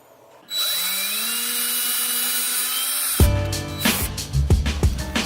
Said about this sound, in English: use your 3/16 drill bit to drill the hole bigger.